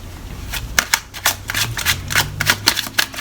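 Tarot cards shuffled by hand at close range, a steady run of quick riffling, slapping bursts over about three seconds with no talking.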